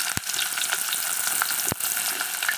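Onion sizzling in a pan with cinnamon and cloves, a steady close hiss of frying broken by two sharp knocks, as for the shira curry with ridge gourd.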